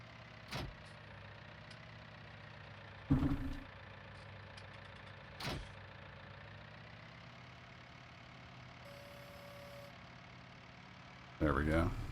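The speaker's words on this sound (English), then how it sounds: "Apparently I need to start the engine before I push on the brakes" A tractor engine idles steadily and quietly in Farming Simulator 19, a low continuous hum with a few brief clicks and thumps over it, and a voice speaks briefly near the end.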